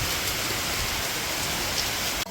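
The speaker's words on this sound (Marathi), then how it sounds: "आम्ही 11:30 वाजल्यापासून इथंच आहोत आणि पाऊस काय जात नाही." Steady rain pours down at a farm, a dense, even hiss of drops drumming on surfaces that holds constant throughout, with no talking.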